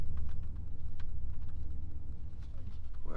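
A Dodge Ram 1500 4WD pickup drives off road, its engine giving a steady, close low rumble with faint crunching and clicking from the tyres on rough ground throughout.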